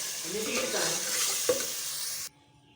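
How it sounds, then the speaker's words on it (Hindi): Chicken cooking with fried onions and tomatoes in a pan, a close crackling sizzle with a scrape of stirring midway, cutting off suddenly after about two seconds. "इसमें प्याज भून के तो मैंने सब कुछ डाल दिया, चिकन भी डाल दिया, टमाटर भी डाल दिया"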